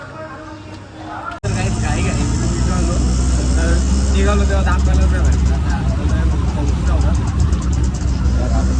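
Passengers riding in an auto rickshaw on the way to Thane for shopping; after a brief quiet start, a loud, steady engine and road drone fills the cabin while people chat over it.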